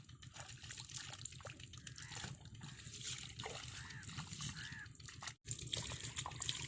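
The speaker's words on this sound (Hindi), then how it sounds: "ये साफ शफाफ पानी है।" Clear water flows and splashes through a village, a continuous trickling, sloshing rush heard fairly close. A voice talks over it part of the time.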